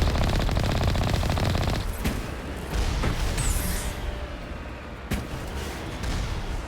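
Dense rapid gunfire from turrets in the video game Mass Effect Legendary Edition, loud continuous automatic bursts with brief sharp breaks and a few heavier impacts, no speech.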